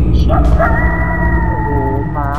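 Eerie drawn-out howling echoes through the horror game Shutter, a wavering tonal wail that rises, holds and bends over a dense low background rumble, with voices talking faintly underneath.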